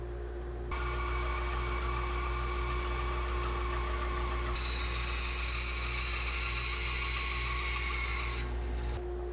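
A bandsaw cuts a taper along wooden legs for a reception desk, each leg held at an angle in a jig. A steady, fairly loud whine starts abruptly, its pitch shifts partway through, and it runs about eight seconds before stopping.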